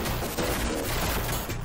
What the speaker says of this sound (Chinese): 激光的炮台